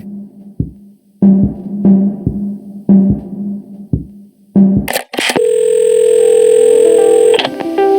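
Telephone in the video game Assemble with Care: a few short clicks and knocks as the handset is picked up, then a sudden burst and a steady, loud continuous dial tone that holds for a few seconds before cutting off.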